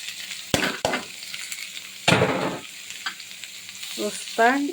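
Bitter gourd frying in a pan with fried onion and garlic, a close, steady sizzle punctuated by a few loud spatula strikes and scrapes, and a brief voice near the end.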